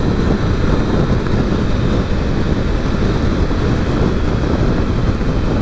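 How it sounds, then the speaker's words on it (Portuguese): Strong wind buffeting the microphone while riding a Triumph Tiger 900 Rally Pro motorcycle, a loud, constant low roar and rumble that fills everything without pause, with no speech over it. "A ventania aqui não ajuda."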